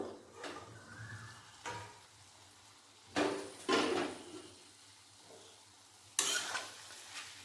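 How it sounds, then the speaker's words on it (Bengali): A plate resting as a lid over a pot of Bengali bottle gourd dalna is lifted off, giving a few short clinks and scrapes over a faint sizzle, with no talking. "এরপর একটা থালা ঢাকা দিয়ে দেবো এরপর ঢাকাটা খুলে নেব"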